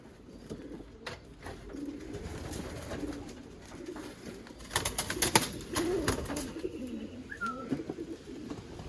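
Racing pigeons coo softly in a loft, with low, rolling calls overlapping throughout and a few sharper sounds of movement in the middle, no talking.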